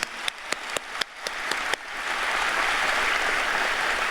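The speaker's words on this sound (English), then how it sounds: "Let's give her a round of applause for her service." Crowd at the Glen Burnie High School 2025 commencement starts with a few scattered single claps, then swells into steady, sustained applause filling the hall, with no voices over it.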